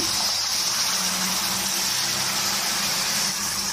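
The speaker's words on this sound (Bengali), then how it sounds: "এবার গরম জল দিয়ে দিচ্ছি।" Hot water pours into a pot of Bengali mixed vegetable curry, a steady gushing, rushing flow heard close and moderately loud throughout, without any talking.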